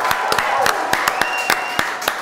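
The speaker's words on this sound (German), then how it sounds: "Großen Applaus" Audience in a German TV quiz show studio claps, sharp scattered hand claps rather than a full roaring ovation, steady through the moment with a faint tone in the background.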